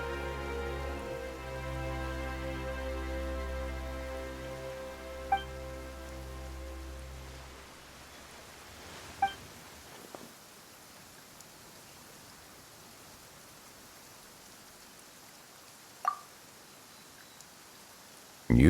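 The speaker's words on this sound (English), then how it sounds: "Why is it raining all of a sudden?" Rain falls steadily in the video game Genshin Impact, a soft even hiss that carries on under a fading musical tone and a few brief clicks before thinning out near the end.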